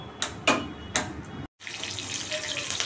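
Vegetables rinsed under a running kitchen tap before soaking in salt water: steady splashing water with a few louder gushes and clatters, a brief cut-off, then continuous flow.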